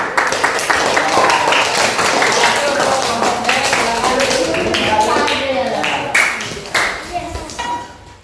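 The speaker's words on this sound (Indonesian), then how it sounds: "Tepuk tangan." Dense applause from a classroom group of students, many hands clapping steadily throughout, with voices mixed in before it thins out near the end.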